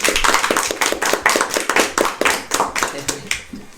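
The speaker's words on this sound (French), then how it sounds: "On peut l'applaudir." A small group of people clapping in a room, crisp distinct claps in quick irregular rhythm, close and fairly loud, fading out toward the end.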